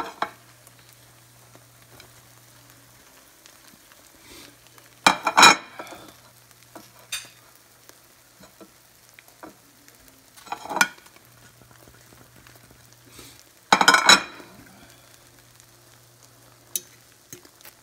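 Scrambled eggs stirred in a frying pan for an omelette with cheese, a few short scraping stirs at intervals over a faint low hum, mostly quiet between strokes.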